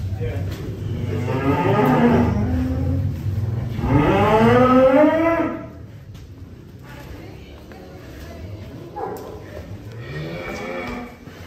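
A very large cow unloaded from a truck lets out two long, loud, drawn-out moos close by, then quieter lowing and moos follow against a background murmur.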